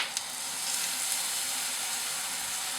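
Fresh cream of about 35% milk fat, roughly four tablespoons, boils in a hot pan with browning broccolini and pine nuts. It gives a steady, even sizzling hiss that continues throughout with no speech.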